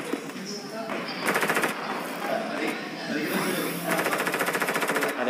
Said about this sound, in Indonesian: Ada yang nembak dong.